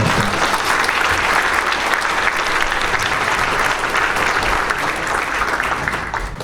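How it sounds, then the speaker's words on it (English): A crowd claps enthusiastically in sustained, dense applause that holds steady before beginning to fade near the end. "let's give a big round of applause for everybody"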